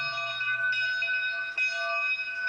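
A logging locomotive bell on a Class 37-2 Shay rings steadily, a bright sustained metallic tone with shimmering overtones and slight pulsing, close and loud with no talk over it.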